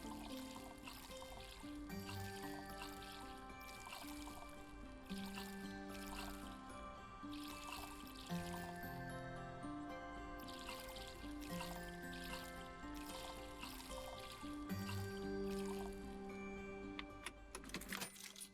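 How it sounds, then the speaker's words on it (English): Soft trickling water of plants being watered in the game Leafy Corner plays over cheerful game music with plinking notes and clicks, fairly quiet throughout. "Gotta water my plants."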